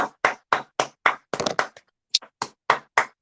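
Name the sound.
people clapping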